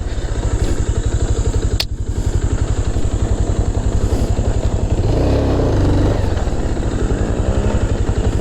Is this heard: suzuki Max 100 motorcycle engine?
yes